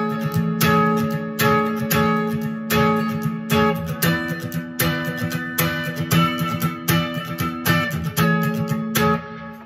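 Clean-toned electric guitar playing the final part of a song, steady strummed chords and ringing notes in an even rhythm, loud and close with no voice over it.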